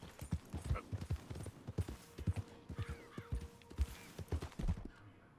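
Quick, rhythmic hoofbeats of a galloping horse in the video game Red Dead Redemption 2, a steady clip-clop pattern lasting several seconds at moderate volume, with faint ambient sounds behind.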